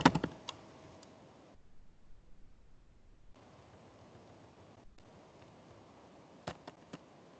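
Keys clatter on a computer keyboard in short bursts with gaps of silence, light and close, over a faint background hiss.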